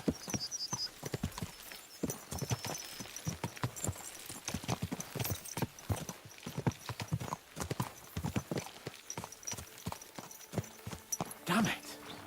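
Horse hooves gallop in a steady, rapid clip-clop rhythm across a game world in Kingdom Come: Deliverance II, close and continuous, with a brief whinny and voices talking over the hoofbeats.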